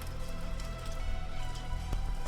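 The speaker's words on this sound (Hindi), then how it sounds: "ये बारिश आ रही है देखो" Steady rain falls outdoors in the late afternoon, a dense continuous hiss of drops with a brief sharper patter near the end, heard alone without voices.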